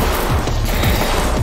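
Gunfire in the VR video game Being John Wick comes as a dense, loud, continuous barrage of rapid shots and crashes, packed close together.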